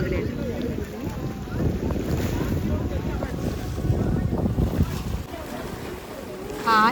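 Wind blows at a swing in the open, buffeting the microphone with a continuous low rumble, while voices speak over it.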